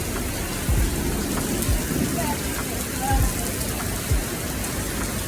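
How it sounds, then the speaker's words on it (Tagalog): Heavy rain pouring down at a Moto Mart in Hong Kong, a dense steady hiss with low rumbles and thumps mixed in throughout. "Inabot tayo ng malakas na ulan"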